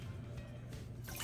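Coffee is poured into a mixing bowl, a brief, close, continuous liquid stream that runs steadily without any voice over it.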